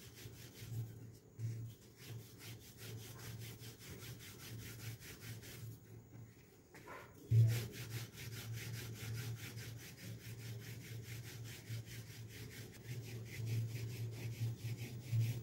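Dough dusted with flour is rolled flat with a rolling pin, giving a steady low rubbing, scraping rhythm that continues through the clip with a brief pause partway, close and moderately loud.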